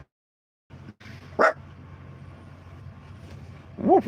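A dog barks twice, sharp single barks spaced a few seconds apart against a low steady background hum, fairly close.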